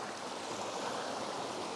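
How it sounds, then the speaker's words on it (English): Light flow of a mountain creek, a steady broadband rush of running water, close and continuous with no other sounds. "You can see where the creek could be much, much wider than this during heavy flow, but even this light flow is very beautiful."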